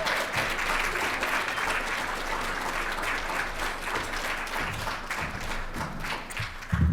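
Steady, full audience applause welcoming speaker Allie Beth Stuckey at a conservative talk event, sustained and even from start to finish with dense overlapping claps.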